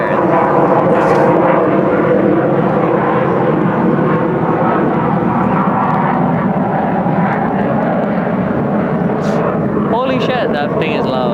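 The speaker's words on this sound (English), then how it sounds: "I'm gonna wait for this jet." A jet airplane passes overhead, its loud broadband engine roar holding steady and filling the whole span, heard outdoors in a rural Hawaiian setting.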